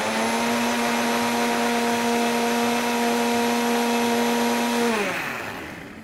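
A steady electric blender whirs at a constant high pitch for about five seconds, mixing sugar until it dissolves, then winds down as the motor is switched off.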